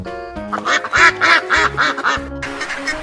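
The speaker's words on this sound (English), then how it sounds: "duck," A duck quacks in a quick series of nasal, harmonic calls, about six close, loud quacks in a row that come in short bursts with brief gaps.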